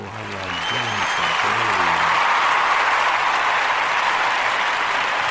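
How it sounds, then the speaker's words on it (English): A small group claps steadily for several seconds after a short music fade at the start of a football-themed podcast, the applause close and even throughout. "Let's clap it up"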